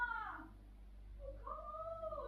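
A cat meows outdoors, two drawn-out, wavering calls at moderate distance separated by a short pause, with no talking over them.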